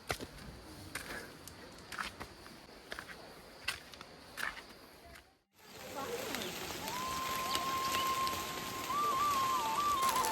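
Rain falls on the Sri Pada pilgrimage trail along the Kuruwita–Erathna route. Scattered drops and footstep-like taps come first, then a steadier, louder wash of rain with a thin sustained whistling tone near the end.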